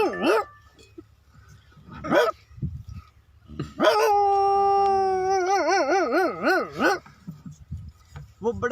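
A big dog gives a few short barks, then a long wavering howl that rises and wobbles for several seconds, close and fairly loud, with brief yips around it.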